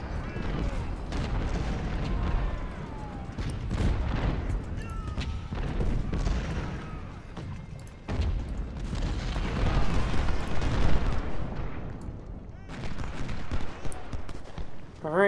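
Artillery and gunfire in the video game Ultimate General: Civil War: repeated booming cannon blasts and crackling volleys roll on continuously, some close and heavy, others more distant, with someone talking over the battle at times.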